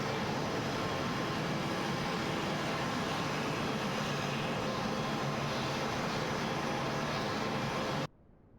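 A Boeing C-17 Globemaster jet transport in the Microsoft Flight Simulator game, its engines giving a loud, steady roar and whine that holds constant, then cuts off abruptly near the end.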